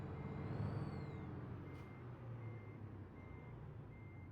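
Reversing beeps from a Kenworth T680 truck in American Truck Simulator, a steady series of evenly spaced electronic beeps over the low idle hum of the engine.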